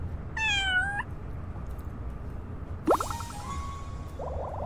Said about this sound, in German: Dies ist a Katze.